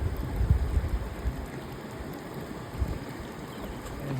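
Steady rain falls outdoors on a rainy rockhounding outing, a continuous soft hiss with low rumbling patter throughout, moderately quiet and with no voices.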